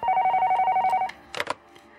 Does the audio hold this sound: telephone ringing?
yes